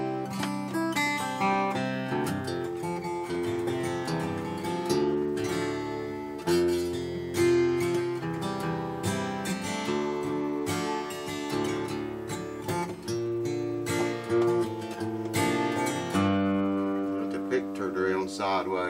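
An Esteban acoustic guitar fitted with a JLD Bridge Doctor rings out in a continuous strummed and picked passage, full and steady at close range, with no voices over it.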